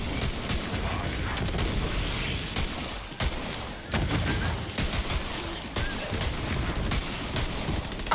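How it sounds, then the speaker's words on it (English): Sustained rapid turret gunfire in the video game Borderlands 3, a dense loud fusillade of shots with mechanical clatter running almost unbroken throughout. "Oh, that's our turret. That's why we're shooting."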